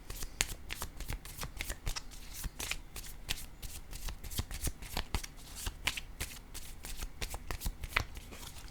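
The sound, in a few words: tarot cards being shuffled and drawn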